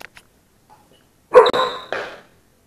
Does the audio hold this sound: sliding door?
no